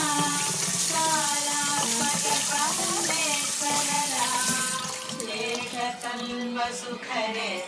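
A kitchen tap runs steadily while dishes or food are washed, with a continuous close splash and hiss that goes on throughout, alongside tonal sounds in the background.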